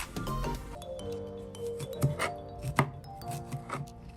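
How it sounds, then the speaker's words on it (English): A knife chops sweet peppers on a cutting board in a home kitchen while Jamaican-style cabbage and salt-fish is being prepared, giving a few irregular, crisp, close knocks and rubs at a quiet level. "I'm going to cut out my sweet peppers"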